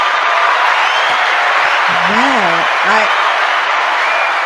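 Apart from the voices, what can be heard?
audience applause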